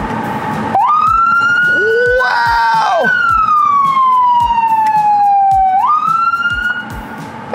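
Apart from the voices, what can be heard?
toy police vehicle siren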